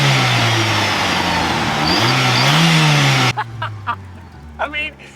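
A cheap blow-off valve whistle fitted into a car exhaust gives a loud, close engine rev with a rising whistling tone, then several short bursts as voices talk over it.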